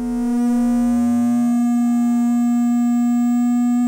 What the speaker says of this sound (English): I'm going to turn the frequency up on my other VCO